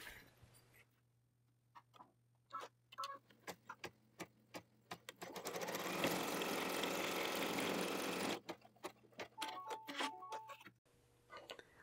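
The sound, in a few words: embroidery machine stitching mini stocking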